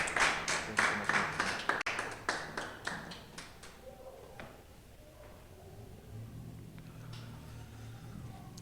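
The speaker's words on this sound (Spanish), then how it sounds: "Dale un aplauso a Jesús" Congregation applauding in a church: a burst of loud, irregular claps for about three seconds, then fading out, with a faint murmur left over after it.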